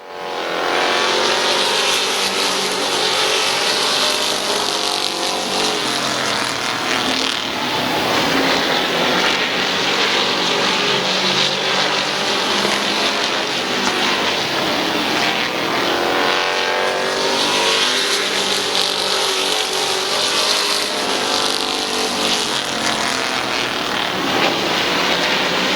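Race cars roaring around a dirt speedway oval during a heat race, a loud continuous engine drone that swells and fades as the pack sweeps past, with no commentary voice heard.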